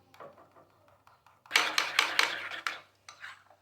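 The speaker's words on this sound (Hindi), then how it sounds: "और अच्छी तरह से मिक्स कर लेंगे।" A spoon clinks and scrapes against a bowl while ketchup, red chili powder and milk are mixed into shawarma sauce; quiet at first, then a burst of brisk clattering strokes before easing off.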